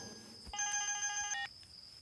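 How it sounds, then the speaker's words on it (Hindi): A telephone bell rings in a dubbed South Indian action film scene, a short burst of electronic ring tones starting about half a second in and stopping abruptly before the end, with no talk over it. "फोन बज रहा है।"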